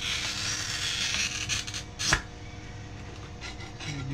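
A wheel cutter scoring stained glass freehand: a soft, continuous scratchy rasp with a sharper crack midway, quiet and close.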